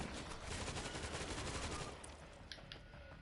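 Sustained automatic turret fire in the video game World War Z, a dense rapid rattle of shots that eases off toward the end with a few scattered sharper hits.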